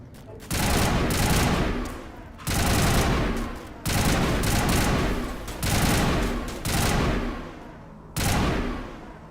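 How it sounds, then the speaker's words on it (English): Mass Effect video game combat fills the scene with heavy sustained gunfire, loud bursts of fusillade lasting a second or two each, separated by short lulls, with no speech over it. "someone's shooting at me from behind"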